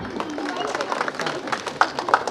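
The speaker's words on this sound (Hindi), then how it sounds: "गिव अ बिग हैंड, जोरदार तालियां" Students and teachers clap at a school prize ceremony, producing a steady patter of many hands with a few sharper claps standing out. Voices murmur underneath.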